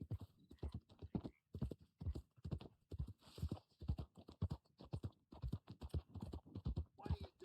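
Black Arabian horse in a video game trotting with steady, rhythmic clip-clop hoofbeats, close and clear throughout, no talk.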